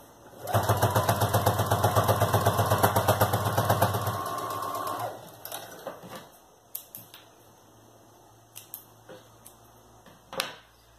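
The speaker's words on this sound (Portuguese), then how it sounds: "Agora eu vou passar uma costura de segurança toda a volta desse recorte aqui" A sewing machine stitches a children's backpack in a rapid, even run of needle strokes lasting about four seconds, then stops, leaving a few faint clicks and handling taps.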